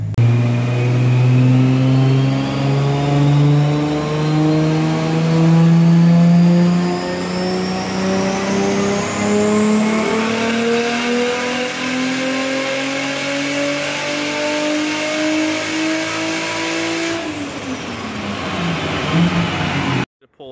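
A Toyota Cressida engine revving hard on a dyno pull, loud and close, its pitch climbing steadily through the gears for about seventeen seconds before dropping off as the throttle closes.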